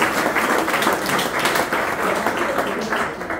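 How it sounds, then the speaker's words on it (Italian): Audience applause for a singer-songwriter, a dense burst of clapping that stays loud and close for a few seconds, then eases slightly toward the end. "facciamo un applauso"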